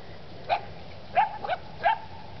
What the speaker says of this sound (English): Here are Jana puppies